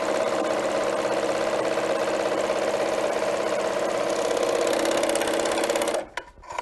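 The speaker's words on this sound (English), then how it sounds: "We're going to serge." A serger sewing machine runs fast and steady as it serges fabric, a loud continuous mechanical whir close by that slows and stops near the end.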